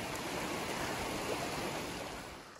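Water from a stream floods a hiking path, giving a steady, close, full rushing wash that stays even throughout with no voices.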